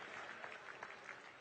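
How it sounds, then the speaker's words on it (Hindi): Audience at an awards ceremony honouring Asian Games medal winners in a stadium, clapping in a faint, steady wash of applause heard from a distance for the whole short stretch. "आप बराबर तालियां बजाते रहिएगा"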